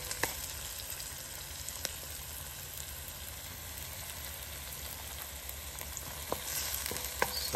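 Onions and garlic fry in a pan at a campsite on Vancouver Island, giving a steady, close sizzle with occasional crackles and light stirring clicks, with no voices.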